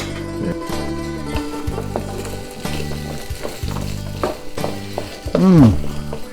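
Carrots and shrimp are stir-fried in a Chinese wok with a close, lively sizzle and repeated scraping stirs in a rough rhythm, with a louder clatter near the end.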